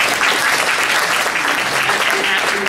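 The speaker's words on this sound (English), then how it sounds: "I'd like to congratulate and please applaud for two very excellent colleagues" An audience at a press talk on getting out the vote breaks into loud, dense applause, many hands clapping continuously and evenly from start to finish.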